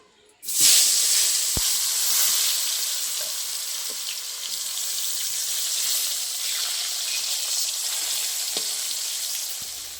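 After a brief quiet moment, potatoes land in hot oil in a kadai and erupt into a loud, hissing sizzle that stays steady with a few soft knocks.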